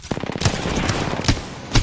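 Rapid automatic gunfire in the video game Apex Legends, a loud, close burst of quick repeated shots followed by a few heavier separate bangs.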